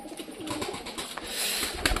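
Lotan pigeons coo softly and close by, including a ring-banded bird, in a series of low throaty calls over light rustling and background noise.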